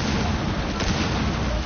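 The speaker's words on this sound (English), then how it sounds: "Damn, that shit exploded." A breach charge detonates in the Rainbow Six Siege video game, a loud, dense blast that fills the whole moment with rumbling, crackling noise.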